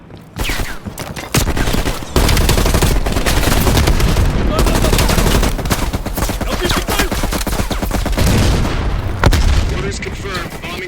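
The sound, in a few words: heavy machine gun fire in Call of Duty: Black Ops Cold War video game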